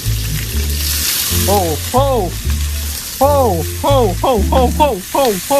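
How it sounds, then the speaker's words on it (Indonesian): Ground spice paste fries in hot oil in a wok with loud, steady sizzling and stirring scrapes, overlaid by repeated rising tonal squeaks. "Step ketiga kita disuruh panaskan minyak di wajan dan kita akan tumis semua bumbu yang udah kita haluskan tadi."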